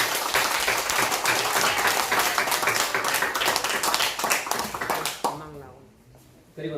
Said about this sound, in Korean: 큰 박수 우리 한번.